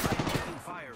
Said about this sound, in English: There's someone shooting at us.